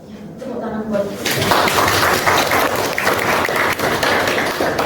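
A room of people bursts into applause after someone speaks, the clapping swelling quickly into a dense, loud, sustained wash that holds steady to the end.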